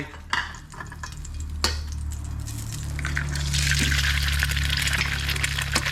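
Eggs hit a hot pan of stir-fried instant noodles with shrimp, a few sharp knocks followed by a hissing sizzle that builds and holds steady and loud to the end.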